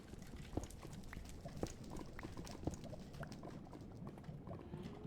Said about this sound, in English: You found the Super Mario RPG horse.